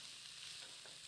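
Vegetables stirred in a pan for veggie fried rice give a steady, even hiss of frying with faint scraping, low in level and continuous throughout.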